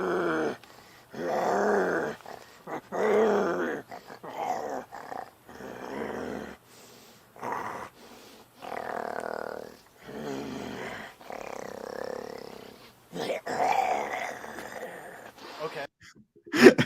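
A performer growls in character as Bigfoot, making a series of low, rough, throaty growls and groans in short bursts with pauses between them, heard close and fairly loud. The growls come from a human voice imitating a creature.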